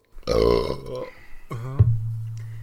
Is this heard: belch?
yes